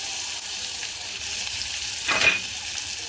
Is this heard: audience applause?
no